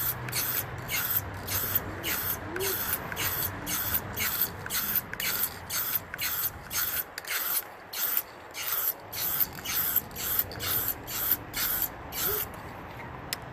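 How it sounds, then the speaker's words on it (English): Short bursts of spray paint hitting a Roland mesh drum head, about fifteen evenly spaced hissing puffs with brief pauses between them, close and clear with no talking. "So spray, let go, short burst, that way you don't get the runs."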